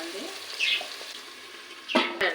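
Ginger garlic paste frying in a pan for chicken curry, a soft continuous sizzle with faint bubbling close by, followed by two sharp clinks near the end.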